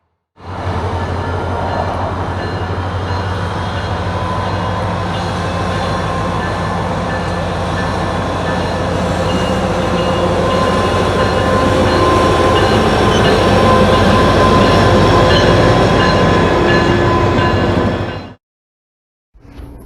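James E Strates carnival train doubling out at Middle Taft, heard from a distance in worsening weather: a steady, loud rumble of rolling railcars with faint wheel squeal and clatter, running unbroken for about eighteen seconds before cutting off.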